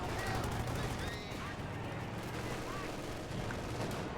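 Dense rifle and machine-gun fire crackles continuously in a World War II real-time strategy battle, cavalry rifles among the shots, with mortar and vehicle combat noise layered over a steady loud din and a voice talking over it.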